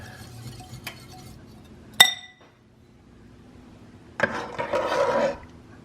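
A whisk clinks sharply against a glass bowl once, then a burst of rapid scraping strokes follows after a pause as a cheesecake ice cream custard mixture is beaten, close and fairly loud with no voices.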